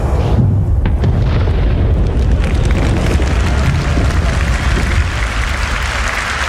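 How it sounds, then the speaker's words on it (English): A loud, sustained roaring video game explosion with a shockwave and delayed boom, crackling debris, rumbling on for several seconds before slowly easing off. "Finally, the really cool stuff, explosions."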